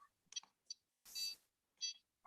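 Beeps from a drone's radio controller as its trim is centered, several short bright tones closing on a longer sustained beep in a quiet room, no voices.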